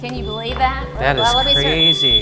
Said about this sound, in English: Hey, that's a alarm, good thing